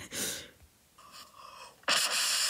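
Heavy breaths blown close into an iOS phone's microphone to trigger an app effect: a loud exhale, a quieter lull, then another forceful sustained breath.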